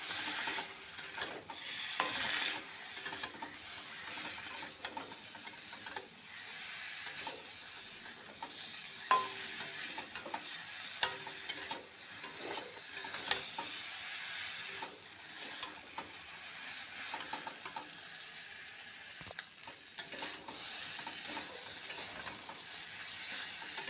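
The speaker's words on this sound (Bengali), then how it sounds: "এখন দিয়ে দিচ্ছি সিদ্ধ করা মূলো আর আলুটা, ভালোভাবে কষে নিচ্ছি।" Boiled radish and potato being stir-fried with spices in a pan, steady sizzling under frequent scraping and clattering stirring strokes, close and continuous, with no talking.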